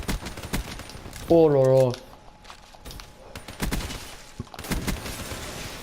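Rapid gunfire from a video game, heard as sharp bursts of shots scattered through the clip under and between players' chatter and an exclamation, with one burst of clearer repeated shots in the middle.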